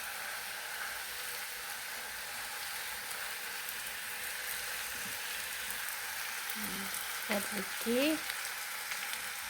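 Sliced onions with a little oil sizzle in a pan, a soft, even crackle held at low level throughout, while a voice speaks briefly near the end.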